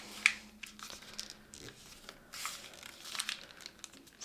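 Paper being folded and creased for a paper airplane flap, giving light crinkling and rustling in short bursts with a few sharp crisp crackles, close and quiet.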